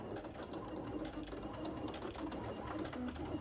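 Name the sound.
electronic cutting machine cutting circles out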